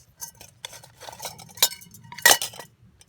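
Small metal camping pot, thermos and alcohol stove knocked together, with a tea ball also part of the set; scattered light clinks and clatters, close by, with two sharper metallic knocks standing out, no voices.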